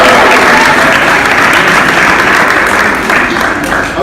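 An audience at a spring high school media day breaks into loud, sustained applause, dense clapping close and continuous throughout, tapering slightly toward the end.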